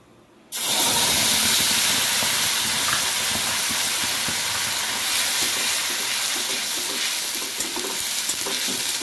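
Onion paste hits hot oil tempered with cumin and bursts into a loud, dense, steady sizzle that starts abruptly after a brief quiet moment and keeps hissing strongly throughout.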